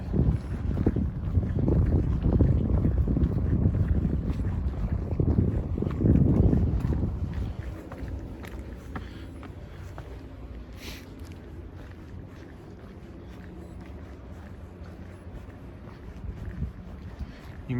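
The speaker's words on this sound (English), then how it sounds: "Ooh, into that headwind again." Strong headwind gusting across a beach microphone, a loud, rough buffeting roar for the first seven seconds that then eases into a quieter, steady windy rumble.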